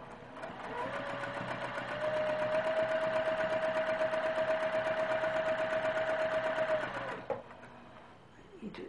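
Sewing machine stitching down quilt binding, a close, steady motor whir that ramps up, runs evenly for about five seconds and then stops, followed by a few soft handling noises.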